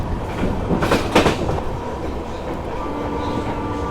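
Passenger train on the Jodhpur–Jaisalmer line crossing the Thar Desert, a steady rumble of wheels on rails with a burst of clickety-clack clatter near the start, heard from inside the carriage without talk.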